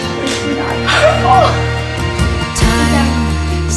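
A puppy whimpers in thin high whines and gives a few short yips, close by, mixed with soft background voices and music.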